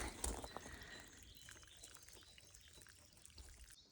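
Water trickles faintly through a small dug drainage trench beside a house, a quiet, soft pouring and dribbling with a brief louder splash near the start and faint bird chirps outdoors.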